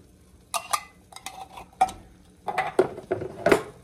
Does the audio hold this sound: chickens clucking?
no